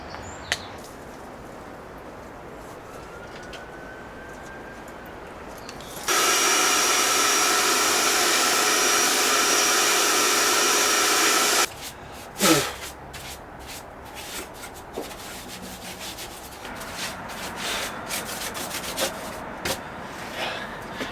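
Dust, cobwebs and wood shavings are cleaned out of a wooden cabin: a loud vacuum drones steadily for several seconds, then stops, followed by scattered brushing, scraping and shuffling sounds nearby.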